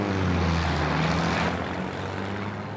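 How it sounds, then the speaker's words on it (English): A propeller airplane passing overhead, a loud steady droning engine roar that fills the whole stretch and eases slightly toward the end, with no talk. "Where is that plane going?"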